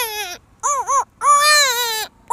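A man imitates a baby crying, producing three wavering, high wailing bursts separated by short pauses; the voiced cries are loud and close, with no other sound.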